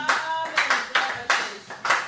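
A church congregation clapping to welcome a woman preacher, sharp, close handclaps falling in an irregular rhythm of about eight strikes, each ringing briefly in the room, with a faint sung tone underneath.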